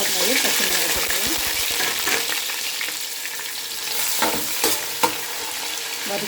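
Onions and green chillies frying in oil for mutton biriyani, a close steady sizzle with busy spoon scrapes and knocks against the pan, the stirring thick at first then more sparse.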